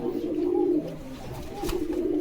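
Pigeons cooing on a pigeon farm in Bogura, Bangladesh: a steady run of low, throaty coos close by, with a brief rustle partway through and no talking.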